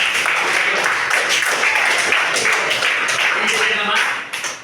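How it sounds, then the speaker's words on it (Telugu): A group of students clapping at a children's motivational talk, a dense and fairly loud burst of overlapping claps that holds steady and then tapers off near the end, mixed with voices. "మంచి క్లాప్స్ ఇవ్వండి"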